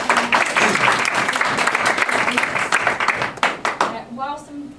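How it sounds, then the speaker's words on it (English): Audience applause after a healthy-eating presentation, a burst of many hands clapping that thins into scattered individual claps, with a voice starting to speak as it fades. "a round of applause"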